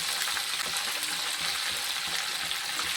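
Garlic cloves and green chilies frying in a pan for a Tamil garlic tamarind curry, giving a steady, close, loud sizzle that carries on without a break and without speech.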